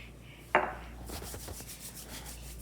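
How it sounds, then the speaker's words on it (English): Hands rubbing oil on one another before kneading sticky pizza dough, a close soft swish at first followed by faint, irregular rubbing and light handling noises. "So I'm gonna oil my hands because this dough is very sticky."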